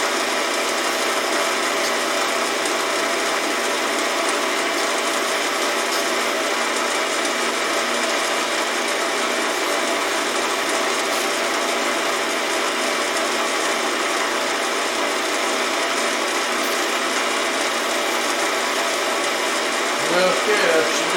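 A pen spins on a lathe while being sanded with 3000 grit paper, giving a continuous loud whirring rush with steady friction hiss that holds unchanged throughout.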